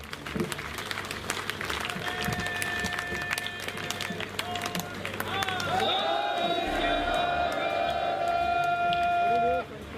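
A standing crowd at a BJP candidate's nomination event in Ratia claps loudly to welcome the chief minister, a dense spatter of applause under amplified voices and sustained tones from a PA system.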